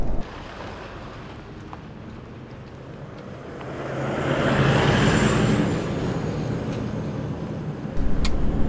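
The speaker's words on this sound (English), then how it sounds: "We've hit the gravel road now" A stock Toyota Hilux on all-terrain tyres with 17-inch rims rolls along a gravel road, giving a steady broadband rumble and road roar that swells midway and then holds, with no voices.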